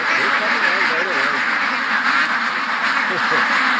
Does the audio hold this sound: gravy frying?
no